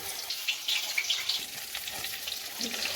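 Pieces of pointed gourd fry in hot oil with a steady, bright hiss and soft crackling bursts, moderately close and uninterrupted by any voice.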